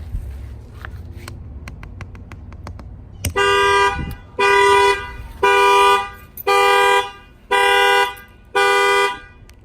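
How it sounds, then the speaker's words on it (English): Factory alarm on a 2019 Ram 1500 pickup, set off by its glass sensor: a few faint ticks, then loud close horn honks blaring in a steady rhythm of six evenly spaced blasts, with no talking. "fire off the factory alarm system"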